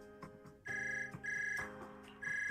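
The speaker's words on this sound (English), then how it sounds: "Suddenly, a phone rings." A synthetic phone ringtone sounds in Zenless Zone Zero, repeating in loud melodic tonal bursts with brief gaps, alone with no voices.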